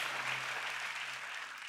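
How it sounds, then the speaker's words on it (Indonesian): Church congregation clapping enthusiastically during a sermon, a sustained wash of many hands applauding at an even level, with a low steady hum underneath and no voices. "Boleh gak kasih tepuk tangan yang paling meriah,"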